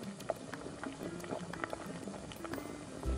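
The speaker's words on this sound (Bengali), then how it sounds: "ঝোলটা ফুটে উঠেছে, আলু ও পটল সেদ্ধ হয়ে গেছে।" Curry gravy with potato, pointed gourd and fried prawns bubbles quietly in a pot, a soft continuous simmer of small pops and gurgles heard close up with no voices.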